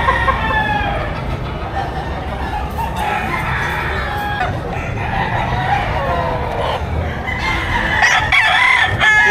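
Several roosters crow repeatedly at a busy chicken market in Padre Garcia, Batangas, their loud, strained calls overlapping one another with clucking hens amid a steady crowd murmur and scattered voices.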